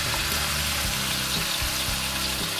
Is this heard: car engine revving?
no